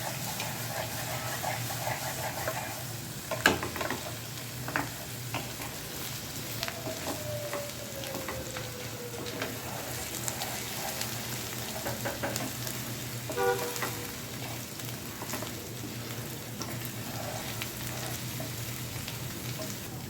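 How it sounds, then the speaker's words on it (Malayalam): Small onions and spices frying in a pan, a low continuous sizzle with occasional clinks and scrapes of stirring, fairly faint and steady over a long stretch without speech. "മറ്റേ ഉള്ളിയും മസാലകളെല്ലാം ഒരുമാതിരി മൂത്തു"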